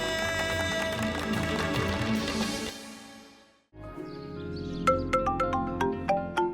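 A phone ringing in a family home in a Hindi sitcom: after music stops, a bright electronic ringtone sounds as a series of repeated chime-like pulses, fairly loud and close.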